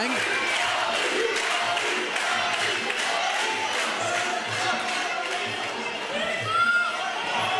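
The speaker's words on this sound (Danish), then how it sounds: "Prøv lige at høre en opbakning til Oliver Payne." A Muay Thai fight crowd roars in support of fighter Oliver Payne, a dense sustained wash of cheering and shouting with a commentator's voice talking over it.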